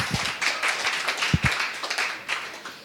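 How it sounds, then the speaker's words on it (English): Scattered clapping from a small meetup audience at an idea pitch competition in Riga, light and uneven, with a few sharper claps standing out over a steady broadband patter. "Big round of applause."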